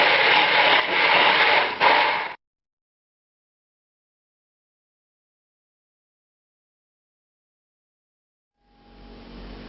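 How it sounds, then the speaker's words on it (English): A stick blender purées cooled tomato sauce in its cup for lamb moussaka, a loud, dense whirring burst for about two seconds that cuts to silence, then starts up again near the end. "I'm putting it in the cup of the stick blender and puree this."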